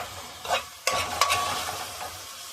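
Vegetables being stirred and frying in a pan for a healthy spinach dish, with close scraping stirs over a steady soft sizzle, a few distinct utensil knocks and no talking.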